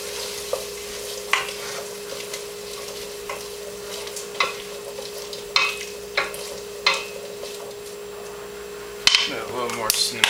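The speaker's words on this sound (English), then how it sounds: "And give that all a stir." A spoon stirs cinnamon and nutmeg through a sizzling pan, making about eight distinct scraping strokes at a loose, regular rhythm over a low fry and a steady background hum.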